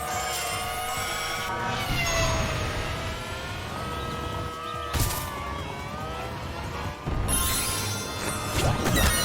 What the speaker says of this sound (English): The noise you just heard is the key appearing,